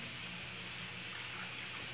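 Water poured steadily into a batch of homemade fabric softener for delicate clothes, about 2.5 liters going in, a continuous close splashing gush with no pauses.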